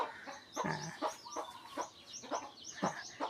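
Chickens clucking close by in a rural Thai setting, a quick series of short, sharp clucks and squawks at an irregular rhythm.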